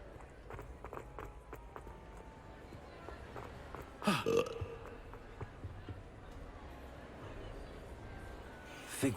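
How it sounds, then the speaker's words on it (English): In Hogwarts Legacy gameplay, one prominent burp sounds partway through, surrounded by soft footstep-like taps and quiet game ambience. "We're burping."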